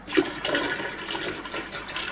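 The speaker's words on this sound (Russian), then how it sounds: "Я им аккуратно подливаю воды" Water poured into a marine aquarium, a steady splashing gush lasting a couple of seconds, close and fairly loud with no voices.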